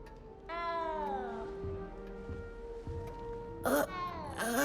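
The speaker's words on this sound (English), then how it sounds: "You don't need to be frightened, little cat." Cat in the Hogwarts Legacy video game meowing in several drawn-out, wavering cries, one early and a couple of sharper ones near the end, over a quiet ambient game background.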